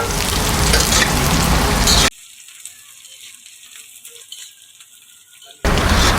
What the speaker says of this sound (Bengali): তারপরে পেঁয়াজটা দিয়ে দিলাম তেলের উপরে।